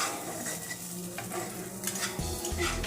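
Egg and prawn masala stirred in a pan for street-style chowmein, with steady scraping and clinking of a utensil against the pan over soft sizzling, close and continuous.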